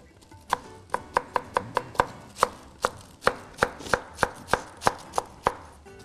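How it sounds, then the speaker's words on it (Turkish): A knife thinly slicing white cabbage on a cutting board in an Anatolian kitchen, about sixteen crisp, close, fairly even chops in a steady rhythm with no talking. "Devam, şöyle bir beyaz lahanamızı inceltmeye."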